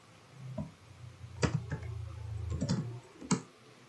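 A computer keyboard pressed for a save shortcut, a few soft close clicks scattered across a quiet moment, with no voice.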